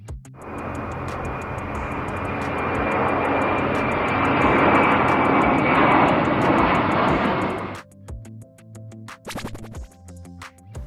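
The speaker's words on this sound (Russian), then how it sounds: "Приземлились в час 30 ночи в аэропорту Лутон" A passenger airplane landing at Luton airport at night, heard from inside as a loud, building engine roar and rumble that cuts off abruptly, followed by quieter cabin clatter and small knocks.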